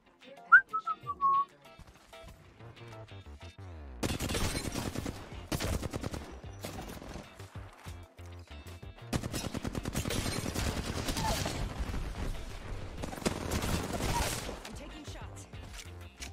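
Bursts of rapid automatic gunfire in a no-fill trios battle royale video game, long sustained volleys with short gaps, loud and close, preceded by a brief whistle-like tone and quiet intervals.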